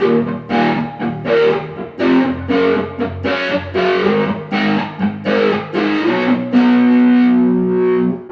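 Loud distorted electric guitar riff with a jet-like flanger sweep in pre mode on a Friedman pedalboard colouring the notes, ending on a sustained chord, no voices.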